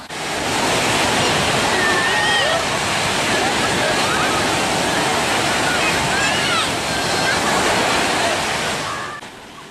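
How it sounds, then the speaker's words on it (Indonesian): Ocean surf at Sanur Beach in Bali rolls in as a loud, continuous wash of waves, with faint voices of holiday visitors and children mixed into the roar. "Mulai dari anak-anak hingga orang tua tampak bergembira menikmati ombak di Pantai Sanur."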